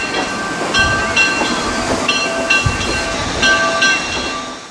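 Historic train on the Midwest Central Railroad, a steady loud rumble of rolling rail cars with repeated rhythmic clacking and a faint whistle-like tonal ring, no voices.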